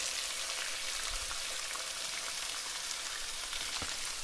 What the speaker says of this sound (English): I just throw these pork chops right into the pan